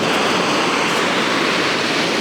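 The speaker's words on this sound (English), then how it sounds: "I want a big wave to come in" Ocean waves surging onto the rocks at Ayrmer Cove in Devon in January, a steady loud broadband roar of surf and wash with some wind, continuous and close, no voices.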